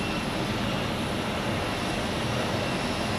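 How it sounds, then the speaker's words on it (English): A passenger jet departs at Zurich Airport, heard as a steady, loud, broadband engine roar that fills the whole stretch without fading, with no voices. "the Montreal flight is departing"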